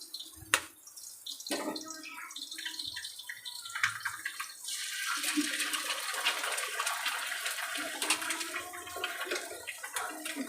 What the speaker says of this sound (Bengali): এর মধ্যে একটা ডিম ফাটিয়ে দেব।